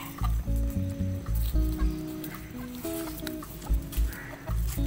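Chickens cluck softly in the background while eating watermelon, over a steady, pulsing low hum, with occasional short clicks and faint rustles.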